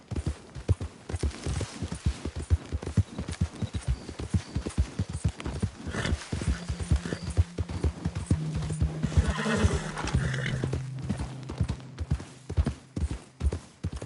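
A horse gallops in the Red Dead Redemption video game, its hoofbeats rapid and steady from start to finish, with a drawn-out whinny partway through; no talk.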